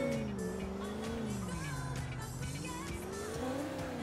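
A car in GTA: The Ballad of Gay Tony drives with a steady engine drone that rises and falls in pitch, loud and continuous, with faint tire noise.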